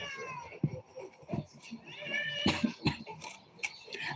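Cats meow several times indoors, with short chirping mews and longer drawn-out calls close by, repeated at uneven intervals over a quiet background.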